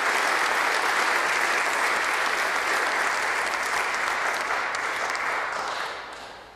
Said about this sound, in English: And another round of applause for Dan Whitten, who's accompanying me.